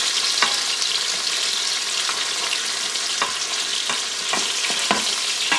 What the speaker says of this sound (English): we're getting fried up here a little bit. I see some brown.